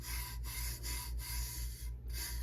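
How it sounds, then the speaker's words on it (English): Bare hands rub loose glitter into a full-wrap template on a tumbler, producing a close, steady scratchy swishing in repeated strokes with brief pauses between passes. "And then rub your glitter in."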